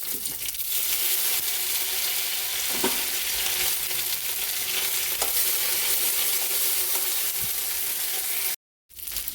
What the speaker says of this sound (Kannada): ಅದೆರಡು ಫ್ರೈ ಆದಾಗ ಕೊನೆಯಲ್ಲಿ ಕರಿಬೇವು ಸೊಪ್ಪು ಹಾಕಬೇಕು